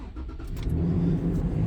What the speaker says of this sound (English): I use my new key, start the car